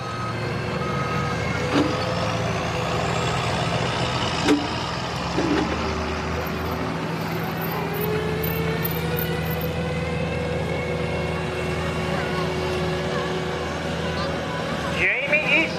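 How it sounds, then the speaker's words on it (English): Semi trucks and dump trucks idle and rumble at a truck pull event in Millers Tavern, Virginia, a steady engine drone broken by beeping, with faint voices under it. "2 more semis and 2 dump trucks."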